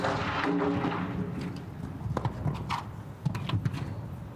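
Hooves thud on the ground of an outdoor show jumping arena at a 1.50m grand prix jump-off, a run of muffled landing beats and strides following a broader rushing noise.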